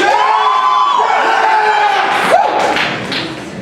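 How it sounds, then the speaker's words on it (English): A single person cheering in a quiz-show audience at a Who Wants to Be a Millionaire-style game, a brief whoop over a sustained tonal sound effect, followed by a thump and faint crowd noise. "that was only one person cheering just now"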